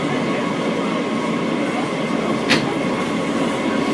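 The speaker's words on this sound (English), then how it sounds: "This is a Manhattan-bound E local train." A New York subway E local train runs with a steady, loud rumble and a brief high squeal partway through, heard from inside the car.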